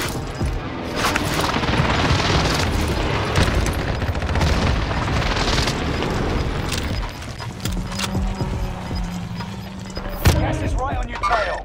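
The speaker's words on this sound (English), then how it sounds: "Allied precision airstrike incoming." Heavy booming explosions from a precision airstrike in a first-person shooter with a PPSh, dense rumbling blasts rolling together over several seconds, loud and close, with a sharp final crack.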